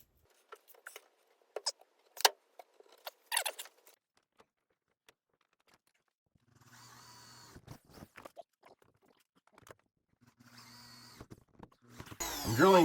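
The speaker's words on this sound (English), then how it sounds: "I'm drilling through this and the little stanchion thingy that's made out of sheet metal" A drill bores through a hollow sheet-metal stanchion while custom bucket seats are fitted to a Lil'Red Ram50. Scattered handling clicks come first, then two short whirring drill bursts and a louder grinding start at the end.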